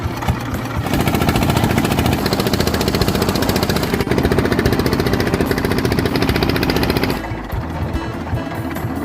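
A boat engine at Muara Kamal is started and runs with a loud, rapid mechanical chugging and rattling that holds steady for several seconds before dropping to a lower idle.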